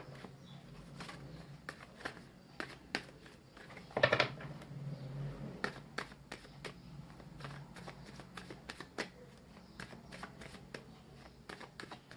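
A deck of tarot cards being shuffled at close range, soft papery riffles and flicks running steadily throughout, with one louder burst of handling near the start; no talking.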